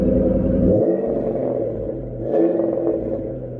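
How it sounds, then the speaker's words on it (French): A Ford Mustang with a 4.6 V8 runs close by with a deep, loud rumble that shifts pitch as the revs rise and fall, with some mechanical clatter and no talking. "Ça sonne bien, écoute ce moteur."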